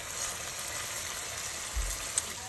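Buttermilk chicken strips sizzle steadily in a pan as they are flipped, a continuous frying hiss with a soft thump partway through and a brief clink near the end.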